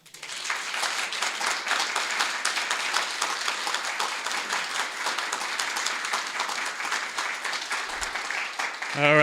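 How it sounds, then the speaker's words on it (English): An audience at a live storytelling event breaks into sustained applause, a dense even roar of clapping lasting several seconds before it fades and a voice starts speaking at the end. "Give another round of applause for Mia."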